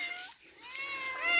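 A domestic cat meows in a long, drawn-out, tonal cry with a short break partway, close and fairly loud, rising again toward the end.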